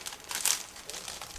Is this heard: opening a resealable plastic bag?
yes